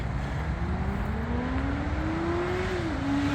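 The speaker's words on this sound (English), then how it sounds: "That motorbike's going a bit fast down there." A motorbike engine whines upward in pitch as it speeds along a road some distance away near the M5 motorway at Junction 10, over a steady wash of traffic noise.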